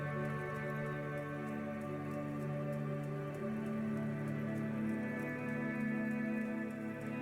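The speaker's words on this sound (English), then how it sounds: "Rain falls down on the world." Steady rain falls over a city in the video game Disco Elysium, an even, soft patter with a low tonal drone beneath it throughout.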